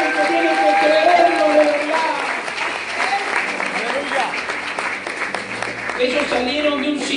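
A church congregation applauds in a steady, dense patter of clapping mixed with scattered shouts and crowd voices, sustained throughout at moderate loudness.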